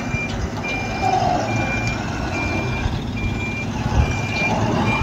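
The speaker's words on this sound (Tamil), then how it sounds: "இது வந்து ஸ்ட்ரெயிட் ரிவர்ஸ் வந்து ப்ராக்டிஸ் பண்ணுறோம்." An Ashok Leyland BS6 trailer truck backs straight up while its reversing alarm beeps at a steady, regular pace over the loud idling diesel engine.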